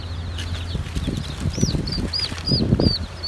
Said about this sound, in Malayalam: കണ്ടില്ലേ നമ്മുടെ തനി നാടൻ കോഴിക്കുഞ്ഞുങ്ങൾ